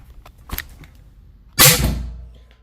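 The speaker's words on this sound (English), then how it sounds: "One last shot. Now she's empty." A single sharp shot from a Bobcat FSC air carbine cracks close and loud, trailing off into a short ringing decay after a few light handling clicks and taps.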